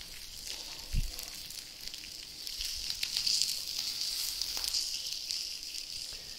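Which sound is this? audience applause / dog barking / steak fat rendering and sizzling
steak fat rendering and sizzling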